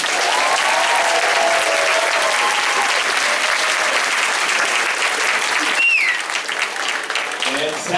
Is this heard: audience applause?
yes